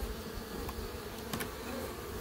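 Honey bees in an open beehive during a swarm check hum in a steady, dense, close buzz throughout, with a few brief knocks.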